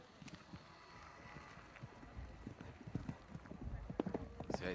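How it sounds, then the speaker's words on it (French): A horse gallops on the cross-country course of an eventing competition at the Mondial du Lion 2015, its hoofbeats thudding in a steady, rapid rhythm at close range, with faint commentary in the background. "ça galope bien pour ce début de parcours avec Kitty King."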